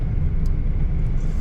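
A manual car's engine right after downshifting into third gear and letting the clutch out gives a steady, close, low rumble that holds evenly throughout, with no talking.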